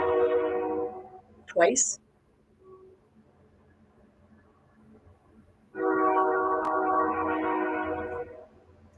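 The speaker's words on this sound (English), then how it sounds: "Train going by, confirmation." A train rumbles past with a long, steady horn-like tone that fades away, then returns loudly a few seconds later, with a brief voice between the two passes.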